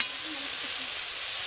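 Chopped onion frying in fish oil in a pan, a soft continuous sizzle at moderate loudness throughout, no voices.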